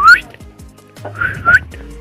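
A person whistles a few short, close, clear tones, some sliding upward, broken by brief gaps in a quiet room at home.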